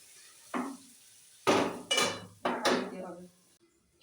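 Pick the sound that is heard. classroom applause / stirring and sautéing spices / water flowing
stirring and sautéing spices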